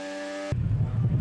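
Team Penske IndyCar race car driven by Will Power, heard onboard at the St. Petersburg Grand Prix: a steady high engine whine that cuts abruptly into a loud, rough low rumble.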